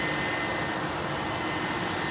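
A jet airliner roars steadily as it departs runway 27R at London Heathrow, a broad, sustained engine rumble heard at moderate distance with a thin high whine on top, constant for the whole stretch.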